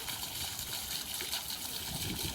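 A park water fountain in Perth splashes and churns continuously nearby, a dense, even hiss of falling water with a faint gurgle underneath and no clear speech.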